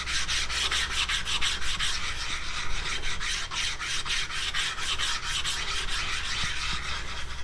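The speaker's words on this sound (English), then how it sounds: "the 200 micron would be what I use on here to clean the plate" A Nano Hone Groomer, used at 200 micron, is rubbed back and forth across a diamond whetstone plate to clean and resurface it. The result is a continuous close-up rasping scrape with a quick rhythmic stroke, heard alone.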